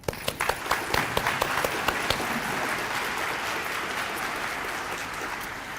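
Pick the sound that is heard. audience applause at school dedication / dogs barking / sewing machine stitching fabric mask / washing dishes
audience applause at school dedication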